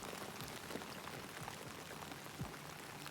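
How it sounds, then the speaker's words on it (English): Steady rain falls in the Detroit: Become Human video game, a dense hiss of drops patters evenly on surfaces with a few louder splashes, soft and continuous, with no talk. "The rain sounds so good."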